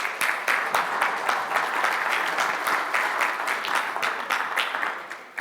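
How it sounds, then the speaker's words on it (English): Sustained audience applause at a leadership panel discussion, many hands clapping in a dense, even patter that carries on for several seconds at steady loudness. "That's worth applause, I think"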